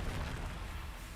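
Descendo spell cast in the Hogwarts Legacy video game, a brief dense low rumbling blast with a heavy boom that fills the moment and fades slightly, with no talk over it.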